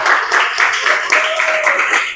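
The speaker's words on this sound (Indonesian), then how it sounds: "Tepuk tangan sekali lagi untuk kelompok 3" Loud, close applause from a classroom audience for a student group's presentation, a dense continuous clatter of hands with a faint voice briefly underneath.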